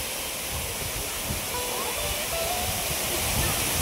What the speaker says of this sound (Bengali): আর এখান দিয়ে ওয়াটারফলসটা সুন্দর লাগছে।